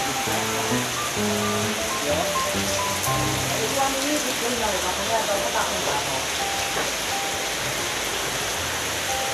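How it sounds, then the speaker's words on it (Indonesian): Heavy rain pours down in a steady, dense hiss, with faint voices underneath. "hati-hati karena cuaca sambil hujan nih, keras banget ya bos"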